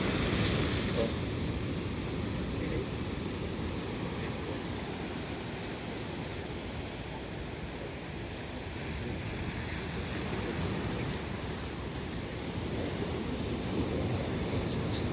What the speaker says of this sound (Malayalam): ഇവിടെ വളരെ ശക്തിയായിട്ട് തിരമാല വന്നടിക്കുന്ന സ്ഥലം